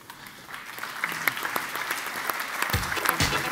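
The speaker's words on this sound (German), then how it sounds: "Ein Applaus für ihn." Audience applause for a panel speaker at the dmexco media conference: fairly quiet, steady clapping from a crowd, with a few louder claps and thumps near the end.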